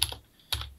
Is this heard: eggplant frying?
no